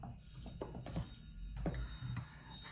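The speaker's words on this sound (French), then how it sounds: "Mais j'avais laissé la sonnerie." A phone ringtone trills in a room with a faint background hum, its rapid ringing pulses fairly quiet and repeating across the span, with a couple of dull knocks mixed in.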